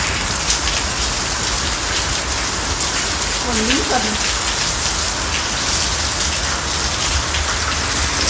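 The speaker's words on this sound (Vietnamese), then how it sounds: "Đang ngồi ngắm mưa." Heavy rain pours steadily in a rural village outside Hanoi in summer, a dense, even hiss of drops on surfaces throughout, with a brief faint voice murmuring partway through.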